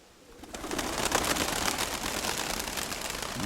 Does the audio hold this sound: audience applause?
no